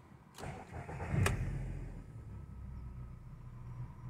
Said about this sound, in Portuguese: Olha como na segunda partida o motor já fica até mais suave.